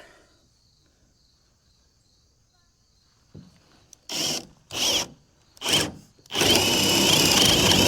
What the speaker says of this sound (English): I'm going to have to drill a hole through this board into the factory slots